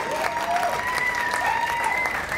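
A festival crowd at Frankfurt's Museumsuferfest 2016 claps loudly and continuously after a band's concert set, with scattered whistles and cheers rising over the dense applause.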